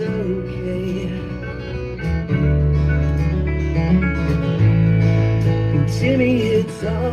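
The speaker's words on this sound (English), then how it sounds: "You hear that lap steel?" Sliding, singing lap steel guitar lines glide over a band with a steady low bass, loud and close, no voices.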